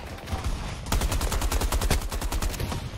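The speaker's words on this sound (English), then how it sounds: "And I get hit by a sniper." Gunfire in Battlefield 2042 on the Haven map: a dense, rapid, evenly spaced burst of shots starting abruptly about a second in and hammering on loud and close until the end.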